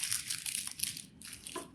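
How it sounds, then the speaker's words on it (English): A piece of paper is crumpled up by hand for packing into the base of a pot when making felt succulents, giving a continuous close crinkling and crunching that runs for almost two seconds with no talk. "I'm going to crumple it up"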